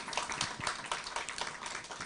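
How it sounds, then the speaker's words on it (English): Audience applause after a fireside chat at an NBCC 2024 event, a steady wash of many hands clapping throughout, moderately loud with no voices over it. "May we give him another round of applause for that fireside chat."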